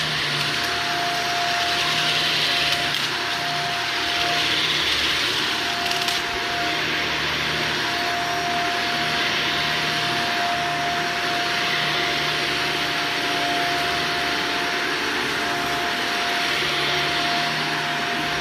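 A carpet cleaning extraction machine runs continuously in a large empty house, its loud steady motor drone and suction whine holding with a constant tone throughout, no voices heard.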